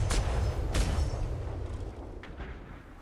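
Ship cannon fire in the Roblox DarksideRP naval game, deep booming blasts with a rumbling tail, a few heavy reports in succession, no speech.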